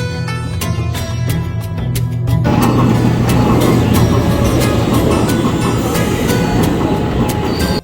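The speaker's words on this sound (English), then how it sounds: "We had to use the subway to get there" A Cairo subway train rolls on its rails with a loud, close rumble and rhythmic clicking. After a few seconds the noise swells into a denser roar as the train gathers speed.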